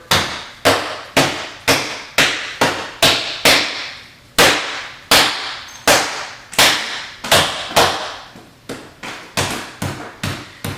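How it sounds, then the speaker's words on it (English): A big ball of stromboli dough is slapped and banged by hand on a work surface, producing around twenty loud, sharp thuds in a fairly steady rhythm, each dying away quickly, with no talking. "For a big ball of dough, well, we just bang on it though, just like this."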